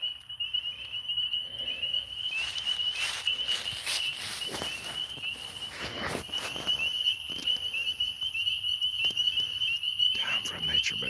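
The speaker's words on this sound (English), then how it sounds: "Just gonna listen to the frogs for a bit." Frogs calling outdoors at night during a live nature broadcast, a steady high trilling chorus with a continuous insect-like drone, fairly faint and even, with soft rustling and brief bursts of noise nearby.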